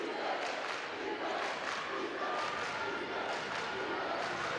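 Students cheer and shout in a steady roar throughout, filling the gym at a high school boys basketball game between Danville and Avon.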